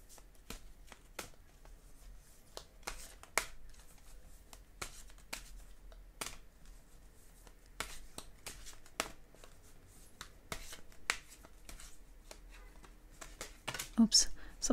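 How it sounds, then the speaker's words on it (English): Oracle cards being shuffled up close, a steady run of soft riffling flicks and taps with brief pauses, ending in a few louder clacks. "I'm going to give these cards a shuffle"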